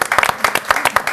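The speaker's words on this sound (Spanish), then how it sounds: "Yo le aplaudo." A quick burst of close hand clapping at a television lunch table, several people applauding in fast uneven rhythm, loud and brief.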